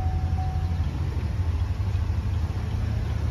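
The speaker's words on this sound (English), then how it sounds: "Engine sounds healthy." 2021 Buick Enclave engine idling with the hood up, a steady low hum and rumble, even and close throughout the short stretch.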